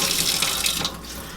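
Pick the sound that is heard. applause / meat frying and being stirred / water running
water running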